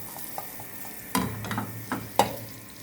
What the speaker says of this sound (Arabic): هنحط مكعب زبده كده اهو